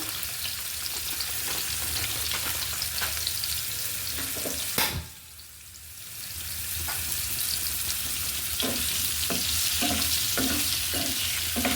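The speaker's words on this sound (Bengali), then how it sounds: "আলুটা খুব সুন্দর করে বেশ অনেক ভাজা ভাজা করে নিব" Potatoes fry in a pan for egg biryani with a steady, close sizzle and occasional light stirring scrapes. The sizzle briefly dips after a sharp knock, then returns to full strength.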